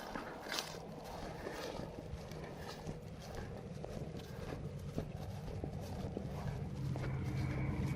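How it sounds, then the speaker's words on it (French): Horses galloping outdoors on a trail ride near a road, their hoofbeats a steady clip-clop in the mid-distance under constant wind rumble, with no talk. "les autres sont en train de galoper là"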